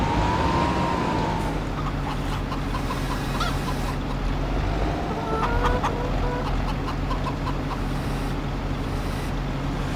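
Chickens in the farming video game Farming Simulator 25 cluck repeatedly in short bursts over a steady low engine-like hum, with no talking.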